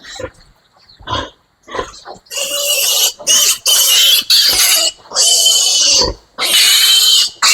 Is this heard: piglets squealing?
yes